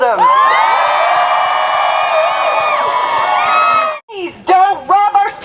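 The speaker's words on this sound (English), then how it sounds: "So a round of applause." A crowd at a student rally for post-secondary education cheers loudly, with sustained whoops and yells, then breaks into shorter shouted bursts after a brief pause.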